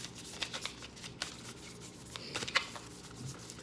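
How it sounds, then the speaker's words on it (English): A deck of cards shuffled by hand in a quiet room, soft irregular papery flicks and riffles with a few sharper snaps, close and unaccompanied by talk. "do some shuffling."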